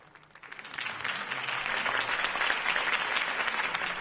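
Applause swells from a small crowd and holds steady, dense clapping rising quickly after a quiet start.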